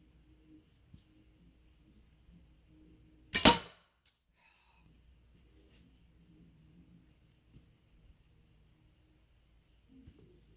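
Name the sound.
arrow from bow hitting target and breaking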